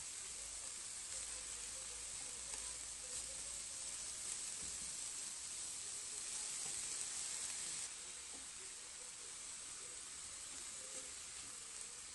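Grated courgette and carrots with coriander cooking in a covered pan give a soft, steady sizzle and hiss, faint and continuous with slight shifts in level.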